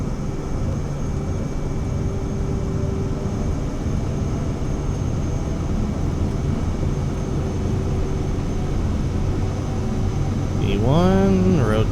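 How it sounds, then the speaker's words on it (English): Aircraft engines hum steadily and loudly as they power up for takeoff in Microsoft Flight Simulator 2024. A short beeping tone sounds near the end. "Gonna start giving the aircraft some power here."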